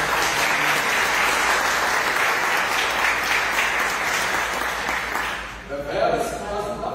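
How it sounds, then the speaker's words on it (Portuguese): A church congregation at the inauguration of a Bereana church in Portugal bursts into loud, sustained applause, a dense continuous wash of clapping that fills the room before tapering off near the end. "Você pode aplaudir Jesus por isso?"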